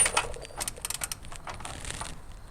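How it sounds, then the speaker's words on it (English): A torque wrench is adjusted during Ford F250 Super Duty ball joint and axle seal work, giving a quick run of faint, close metallic clicks and ratcheting ticks in a quiet setting. "So let me adjust my torque wrench."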